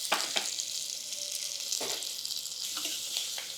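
Green chilies and curry leaves crackling in a hot oil tempering with lentils, asafoetida and turmeric, a continuous bright sizzle broken by a few sharp spitting bursts.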